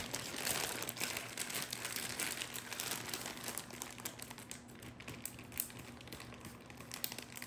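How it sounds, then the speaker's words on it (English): A Ziploc plastic bag crinkles steadily close by for several seconds, a soft continuous rustling with no talk. "Goes right back in the freezer in a Ziploc bag."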